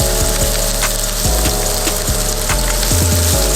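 Onion sauteing in a pan for Korean japchae glass noodles gives a loud, close, continuous sizzle, with faint scraping and tapping from stirring now and then.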